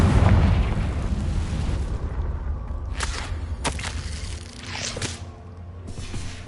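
Several booming Confringo fire-spell blasts from Hogwarts Legacy go off in quick succession, loud and close, over a dense, rumbling battle background.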